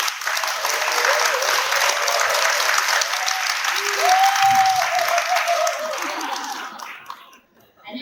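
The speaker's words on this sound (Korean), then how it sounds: "이분님 박현정 발표자를 큰 박수로 맞이해 주시기 바랍니다" Large audience applause welcoming a presenter to the stage at a public-sector policy research presentation, sustained and even for several seconds before tapering off, with some crowd murmur mixed in.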